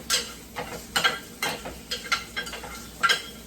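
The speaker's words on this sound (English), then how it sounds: "And there I stir while this is being prepared. I constantly stir." Food being stirred in a frying pan while stewed beef and onions cook, with repeated scraping strokes and soft sizzling, steady close-up rhythm and no talk.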